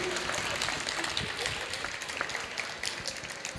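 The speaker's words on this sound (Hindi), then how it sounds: "थोड़ा ताली वाली बजाओ ढंग से" Audience applause at a Hindi comic poetry (hasya kavi) stage show, a steady patter of clapping from a live crowd, moderately loud and continuous, with a louder clap near the end.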